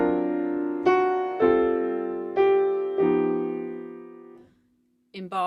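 Jazz piano plays a standard, voicing upper-structure chords over the bass in a series of rich sustained harmonies, a few struck chords ringing out before fading to silence, then a short new attack at the end.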